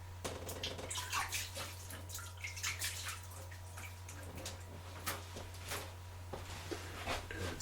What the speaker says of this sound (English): Now I can wash my hands.